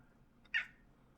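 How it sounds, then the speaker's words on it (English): A pet cat gives a single short, faint meow close by in an otherwise quiet room. "Oh, my real cat says hello."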